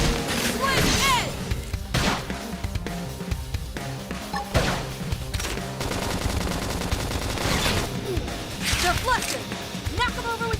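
Rapid gunfire and impact bursts crackle through combat in Xenoblade Chronicles X, mixed with game effects and overlapping voices, dense and loud throughout.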